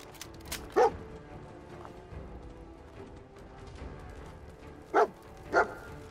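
A dog in the Fallout 4 VR video game barks sharply three times, one burst early and two close together near the end, over a low steady game ambience.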